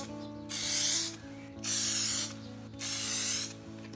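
Lacquer is sprayed from a can onto an elm burr bowl in three separate bursts of strong hiss, each lasting roughly a second, close to the mic, with a low background hum between them.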